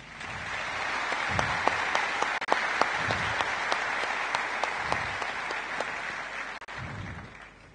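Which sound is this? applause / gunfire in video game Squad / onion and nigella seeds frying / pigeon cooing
applause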